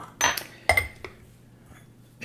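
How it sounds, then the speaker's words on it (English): Ice and liquid are shaken in a cocktail shaker while mixing a cherry bourbon smash with simple syrup, giving several bursts of rattling, clinking ice against metal with short pauses between, close and fairly loud. "Add some ice, and we're going to shake it up."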